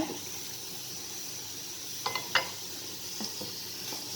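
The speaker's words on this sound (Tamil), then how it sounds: "அரிசி தட்டிட்டு நல்லா மிக்ஸ் பண்ணி விட்டுக்கிடுங்க" Rice is stirred into beef biryani in a pot, a soft, quiet scraping and shuffling under faint sizzling, with a few brief spoon-on-pot knocks near the end.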